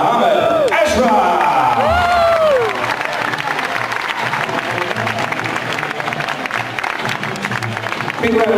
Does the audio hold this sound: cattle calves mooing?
no